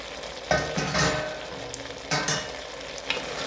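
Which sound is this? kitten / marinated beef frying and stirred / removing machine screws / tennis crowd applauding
marinated beef frying and stirred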